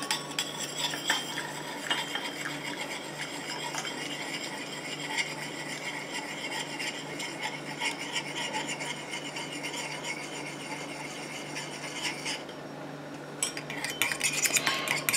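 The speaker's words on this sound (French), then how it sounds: "je viens rajouter ma phase aqueuse à ma phase huileuse tout en mélangeant" Water phase poured into a heated oil phase for homemade face cream while a utensil keeps mixing, a continuous close scraping and clinking against the bowl with no talk.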